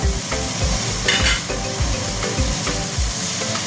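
Water poured into sizzling leafy greens cooking with rohu fish curry in a pan, a loud, dense steady hiss and crackle close up, with recurring low thumps of stirring underneath and no voices.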